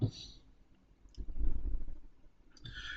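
A single quiet mouse click sounds amid a presenter's speech while working through a software animation tutorial, brief and close beneath the talking.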